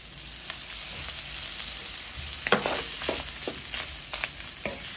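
Cumin, pepper and garlic powder sizzle and fry in grandma's pot as chili base cooks, a steady crackling hiss with scattered sharper pops and occasional stirring scrapes, close and moderately loud, no talking.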